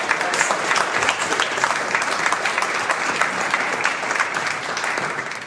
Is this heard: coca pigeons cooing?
no